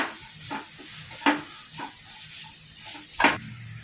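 Sliced onion and grated broccoli toran mix being sautéed in a pan: a constant soft sizzle with a few louder scrapes and clatters of a spoon stirring, close by and without talking.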